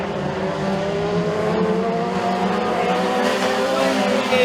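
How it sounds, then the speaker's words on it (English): Mini stock race cars roar down the back straight at a short oval track, a sustained, moderately distant engine drone with slight rising pitch and faint tire hiss. "As they race it down the back chute, Cobb in the 28C working in the number 4 spo"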